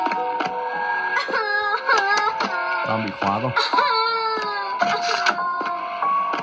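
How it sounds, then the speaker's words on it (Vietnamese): A baby's cry echoing inside a house in a zombie horror video game, wavering wails and whimpers over game music and effects, with someone talking over it. "Có tiếng khóc ở đây"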